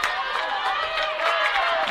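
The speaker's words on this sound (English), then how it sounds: "And now you got the crowd on their feet." Volleyball crowd in a college gym cheering on its feet during a tense third set, producing a continuous broad roar with scattered shouts and whistles-like tones.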